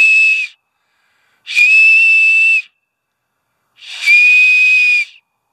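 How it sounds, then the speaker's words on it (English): Three shrill whistles made by blowing across acorn caps, each a loud, steady high-pitched tone lasting about a second, separated by short silences, with no talking. "Acorn caps. It's a fun whistle."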